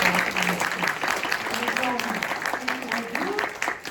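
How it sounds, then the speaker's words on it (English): An audience claps loudly and steadily, a dense wash of hands, while a voice talks over it, at the Taiwan International Book Exhibition. "let's give another big round of applause to Gissel"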